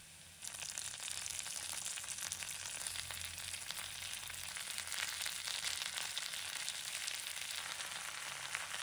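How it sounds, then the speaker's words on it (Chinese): Marinated hairtail fish fries with spices in a clay pot, making a soft but continuous crackling sizzle that holds steady throughout. "此时将腌制好的带鱼轻轻放入砂锅中，让它与香料充分融合。"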